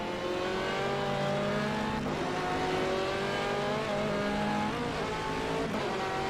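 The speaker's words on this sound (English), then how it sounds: "You can hear the engine getting quite light over the crest." A GT3 race car engine in a racing game at Road Atlanta drones loudly and continuously, its pitch rising and dipping as it revs over a crest, with no talking over it.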